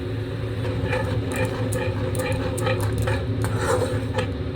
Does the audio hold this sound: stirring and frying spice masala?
yes